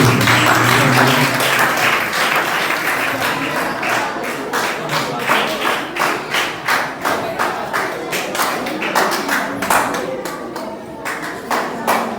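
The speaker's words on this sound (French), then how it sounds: "Les amis, applaudis pour l'étoile brillante." Church audience in a Haitian Creole-speaking congregation claps for a woman brought forward, dense applause swelling into loud, rhythmic unison claps near the microphone, with a voice briefly underneath at the start.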